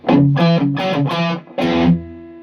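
Distorted electric guitar with the amp's mids set halfway plays four short chords in quick succession, then a longer ringing chord, loud and up front with a strong midrange.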